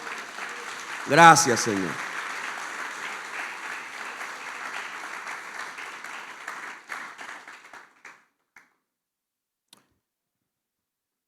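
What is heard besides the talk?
church congregation applause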